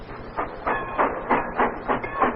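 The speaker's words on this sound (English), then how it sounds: "are on a train speeding towards St. Petersburg" A train speeding toward St. Petersburg, rendered as a 1934 radio drama sound effect, with a steady clickety-clack rhythm of wheels over rail joints, even and moderately loud, without any voices.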